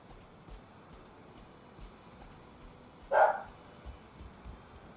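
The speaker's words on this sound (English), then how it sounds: "You guys hear the dog barking?" A dog barks once in the background of a Minecraft-style game world, a short, fairly distant yelp standing out over faint ambient noise and soft clicks.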